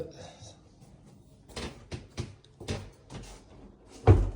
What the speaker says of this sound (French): Donc on rentre par cette porte.